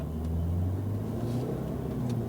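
A Ferrari supercar on a race track gives off a low, steady engine rumble as it rolls out toward the first corners, with a faint whine above the drone.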